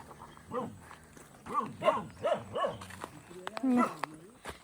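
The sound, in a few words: two guard dogs barking at strangers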